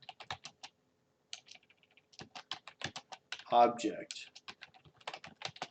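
Computer keyboard keys being typed in a quick, uneven rhythm of close clicks, with someone talking intermittently over the typing.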